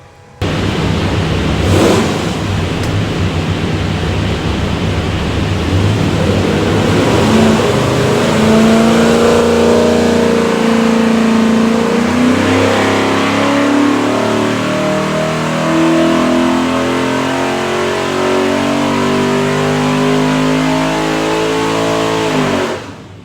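A Superformance GT40 with a 363ci small block Ford V8 roars on a dyno, climbing steadily through the revs in one long, loud, close pull before cutting off at the end.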